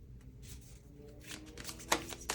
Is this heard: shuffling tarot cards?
yes